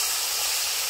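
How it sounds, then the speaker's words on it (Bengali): Fish meets hot oil in a pan and makes a steady, loud hiss of frying that runs without a break through the short stretch. "তো সব থেকে আগে এটাকেই দিব গরম গরম তেলে"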